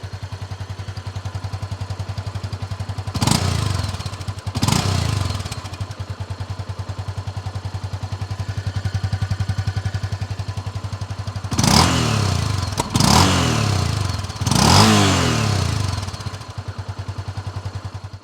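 A 2022 Honda CB300F motorcycle engine revs up sharply in several loud bursts, two early and three close together later, dropping back to a steady idle between them, with no talk.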